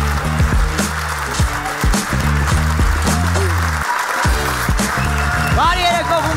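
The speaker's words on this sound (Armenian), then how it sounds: "Բարձր ծափարություններով բեմահարթակում Գրիգն է" Studio audience at a stand-up comedy club show applauds as comedian Grig comes on stage; loud, continuous clapping sits under bass-heavy walk-on music, with a voice over it near the end.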